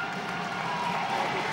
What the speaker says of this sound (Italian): l'applauso convinto e convincente della Palapalumbo